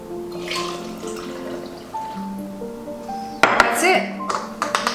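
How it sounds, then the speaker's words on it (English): Filtered water pours into a bottle with trickling and plinking, pitch climbing as it fills, followed by sharp tapping sounds, while a person talks over it. "And now we're going to fill it with the filtered water."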